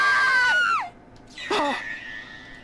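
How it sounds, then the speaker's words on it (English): Screaming in the video game The Hundred Line: Last Defense Academy, two loud, high, falling vocal cries, the first long and sliding down, the second shorter after a brief pause, trailing into a faint tail. "All of a sudden I could hear screaming."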